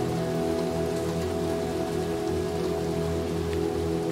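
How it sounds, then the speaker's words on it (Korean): Rain falls in the video game Little Nightmares 2, a dense, steady patter over a low droning hum, loud and constant with no talk. "왜 또 비가 오고 그래?"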